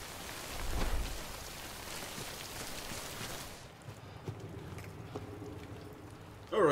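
Acid rain falls in the video game Death Stranding, a steady broadband hiss of rain that is heavier at first, then drops to a quieter patter with scattered drops, ending in a brief louder burst.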